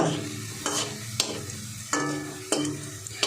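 Onions fry in hot oil while being stirred, a soft continuous sizzle broken by four evenly spaced scraping strokes of a spoon against the pan, close and unaccompanied by speech.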